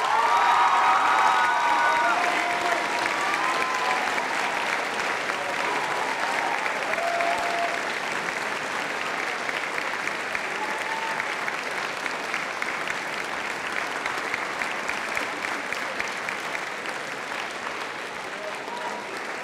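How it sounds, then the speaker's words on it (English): Sustained audience applause fills a high school band's final concert hall, a dense steady wash of clapping that starts loud and slowly tapers while staying strong throughout, with faint scattered cheers. "let's give a big round of applause to Spencer Mann"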